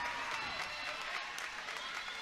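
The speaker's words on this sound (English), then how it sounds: "Listen to the crowd here behind Billy Buck." A wrestling crowd at a live independent show cheers and applauds steadily, a broad continuous wash of clapping and voices filling the whole stretch.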